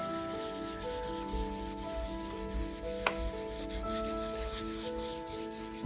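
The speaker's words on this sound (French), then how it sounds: "Il gratte beaucoup moins cette couleur que l'autre." Dry pastel stick rubbing and scratching across paper while drawing a background, a soft, continuous, faint rasp in gentle strokes over a steady tonal hum, with no talking.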